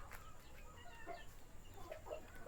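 Free-range African chickens peck around a yard and give soft, scattered clucks. The sound is faint and a little distant, with low background noise and no one talking.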